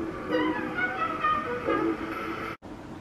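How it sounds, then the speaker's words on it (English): A household electric fan heard close to a microphone as a steady, hissing whir with faint tonal hums, continuous throughout and briefly cut off near the end. "You can hear the static in the background of my fan."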